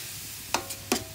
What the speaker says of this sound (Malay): tumis-tumis.